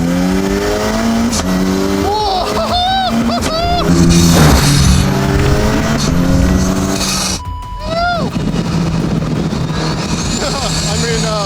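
An Ariel Atom 4R engine roars at high revs under full-throttle boost with strong harmonic whine, pitch climbing and dropping through gear changes, loud and close, with someone talking over it.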